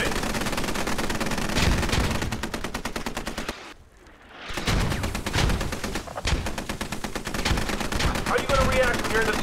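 Continuous live automatic gunfire during boot camp training in the video game Squad, loud rapid volleys filling the scene, a brief lull near the middle before heavy firing resumes, with a voice faintly underneath.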